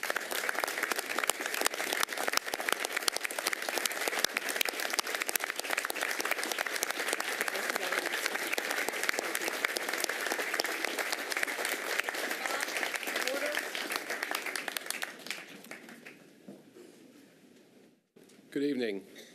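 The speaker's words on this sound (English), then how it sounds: "Everybody should stand and applaud this young lady." An audience at a Metro Council meeting in Nashville applauds with loud, sustained clapping that slowly fades after about fifteen seconds, followed by a brief burst of sound near the end.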